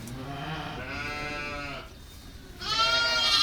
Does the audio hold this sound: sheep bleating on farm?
yes